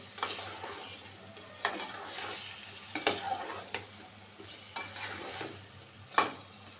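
Young bottle gourd stirred and sautéing in a pan for a rohu fish head curry, with a steady sizzle broken by repeated scraping stirs and clacks, close and alone with no talk.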